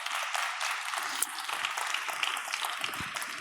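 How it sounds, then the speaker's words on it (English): An audience in a conference main hall claps steadily, a dense, even wash of applause from many hands lasting throughout. "you will all give her a big round of applause"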